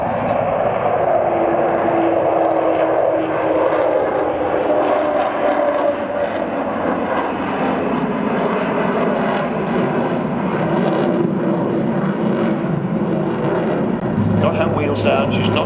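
The Avro Vulcan bomber XH558 flies past at the Duxford air display, a loud, steady jet roar that slowly shifts in pitch as it passes, with a commentator's voice over the top.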